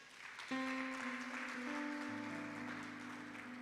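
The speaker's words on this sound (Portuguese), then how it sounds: "Se você puder, dê um aplauso a Jesus aí no seu lugar." A church congregation applauds during a worship service, steady clapping rising at about half a second and filling the space beneath sustained keyboard chords.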